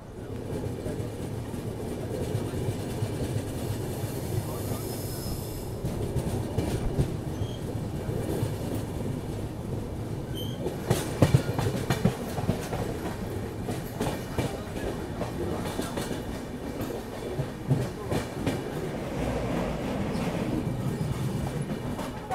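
An Alco diesel locomotive shunting at Secunderabad station in India, heard from a passing train: steady rumble with rhythmic wheel clatter over rail joints and occasional sharp clanks, continuous and fairly close throughout.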